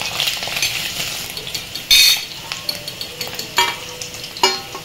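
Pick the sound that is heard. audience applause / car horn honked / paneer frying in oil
paneer frying in oil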